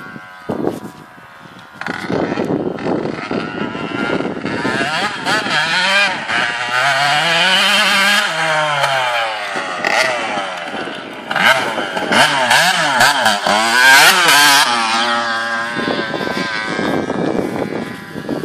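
Motocross motorcycle on a wheelie, its engine revving hard and loud for a long stretch, with rising and falling pitch sweeps as the throttle opens and eases, close and dominant throughout.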